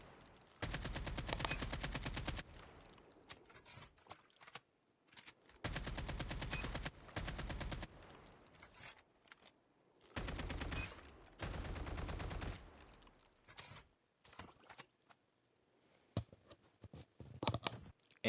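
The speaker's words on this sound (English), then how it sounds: "But here's the default AK sound." Default AK-47 automatic fire in a video game, heard as several loud sustained bursts of rapid shots separated by short pauses, with sharp echoing cracks and shell rattles in between and a final quick cluster of shots.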